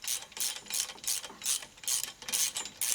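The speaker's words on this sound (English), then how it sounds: "Two ratchet wrenches can be aggravating." A ratchet wrench working on rear disc brakes, clicking in fast rhythmic bursts of about eight strokes, close and clear with no talking.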